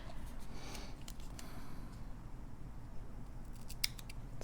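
Scissors snip through paper for a Hobonichi Weeks planner, a steady run of close, crisp cuts over a low background hum, with one sharp snip near the end.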